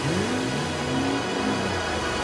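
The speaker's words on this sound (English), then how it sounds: "start your engines" Engine roar rising and revving in repeated upward sweeps, like race cars starting on a cartoon starting grid, loud and continuous with no voices.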